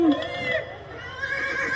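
A horse whinnies in a Thai likay stage play, a high neigh at the start followed by stage voices and music-like tones, fairly quiet overall.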